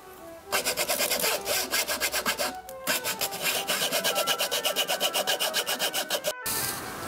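A bookbinding tool piercing holes through each folded book signature gives a steady, rapid rasping run of close strokes, loud and near, with two brief pauses, and no voices.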